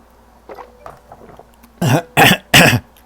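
A person coughs and clears their throat at a desk, a few soft throat noises followed by three loud, sharp coughs close to the microphone, with no talk.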